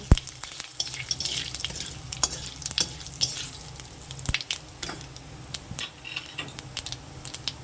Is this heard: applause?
no